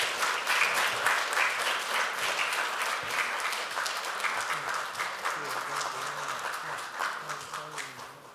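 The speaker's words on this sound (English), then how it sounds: "Let us give one last round of applause to all our winners." A film festival awards grand finale audience applauds its winners with loud, dense clapping from many hands that slowly thins and fades. Low tonal traces toward the end suggest a voice or other sound starting under it.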